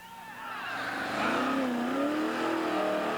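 Muscle cars rev hard on a Chicago street outside an event hall, engines climbing through loud, sweeping pitch rises that swell and hold in a raw, continuous roar with possible tire squeal.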